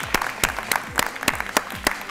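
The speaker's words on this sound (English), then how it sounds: "Now, I think they need another round of applause for that." Studio audience at a televised quiz show clapping, a few sharp, separate claps sounding close over a light room background, steady for about two seconds.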